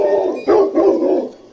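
Dog barking in a short burst of a few close, loud woofs with a whimpering edge, no talk over it.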